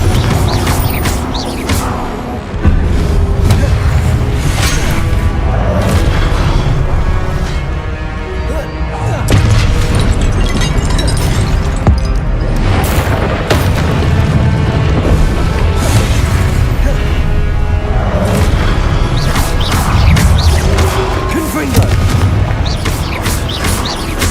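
Repeated Confringo fire-spell blasts from the video game Hogwarts Legacy, loud booming explosions in a dense, continuous stretch of game combat with layered rumbles and bursts, some shouted spell voices mixed in.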